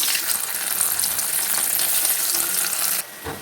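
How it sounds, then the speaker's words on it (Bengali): Paneer sizzles and crackles steadily in hot oil, a bright, continuous frying hiss that drops off abruptly near the end. "তেল গরম হয়ে গেছে আমি এবার পনিরগুলো ভেজে নেব"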